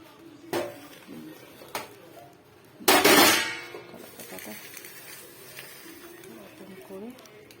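A metal plate is set down over fish wrapped in banana leaf on a hot tawa, landing with a loud clanging clatter after a couple of lighter knocks, while someone talks throughout.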